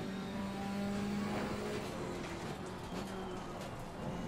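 Race car engine from Assetto Corsa Competizione heard from a dash cam view, a steady mid-level engine drone with slight pitch shifts as the car pulls away, no talking over it.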